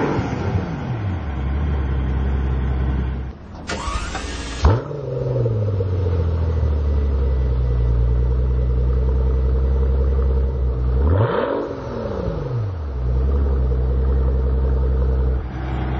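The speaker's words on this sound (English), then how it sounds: "Gotta love the melodic note of a V12." A V12 car engine idles with a steady, deep rumble, broken by two rising-and-falling revs and a brief high whine near the start; loud and close throughout, with no talking.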